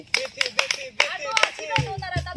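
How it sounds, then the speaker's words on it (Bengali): A group claps for the winner of a party game: several bursts of sharp hand claps come in uneven clusters, with voices mixed in among them. "সবাই একটা তালি বিথি আপুর জন্য"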